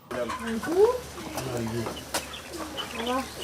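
Chickens on a poultry farm cluck and murmur nearby in a loose, continuous stream of short calls, with someone speaking over them.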